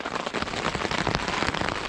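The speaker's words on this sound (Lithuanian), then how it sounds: "Lietus lyja." Rain falls outdoors at night, a dense patter of drops striking a nearby surface in a continuous, irregular wash.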